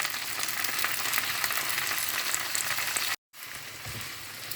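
Gongura leaves sautéing in a hot pan, a steady close crackling sizzle that cuts out briefly near the end and returns softer.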